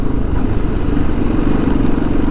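A motorcycle rides over a bumpy street in Ohrid with a loud, steady engine drone and a continuous rattling judder, close and alone.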